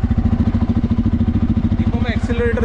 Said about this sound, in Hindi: एक बार साउंड सुन लीजिए बाइक की